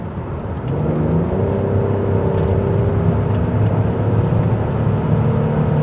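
Renault Vel Satis car engine pulling under acceleration, a steady rising drone with whirring harmonics heard from inside the cabin and holding loud throughout.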